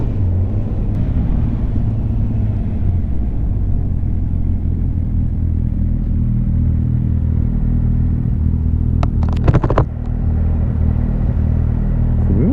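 A motorcycle with a dual exhaust rides along, its engine a steady, close low rumble with a brief clattering rattle near the end and no talk over it.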